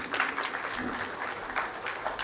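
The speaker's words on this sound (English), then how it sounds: "we can do better than that when it comes to clapping for the HR" Scattered audience applause at a Kenya School of Government centenary morning session, moderate and steady for a couple of seconds, with a faint murmur of voices underneath.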